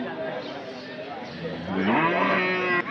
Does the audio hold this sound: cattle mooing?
yes